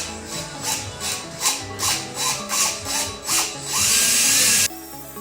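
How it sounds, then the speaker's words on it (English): A cobalt drill bit bores through a stainless steel aircraft exhaust, giving a rhythmic series of grinding, rasping pulses that build into a sustained high whine before stopping abruptly, close and loud. "you will need a cobalt drill bit as we're drilling through stainless"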